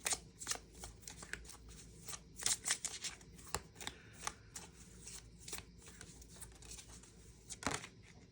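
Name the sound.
shuffling Moonology oracle cards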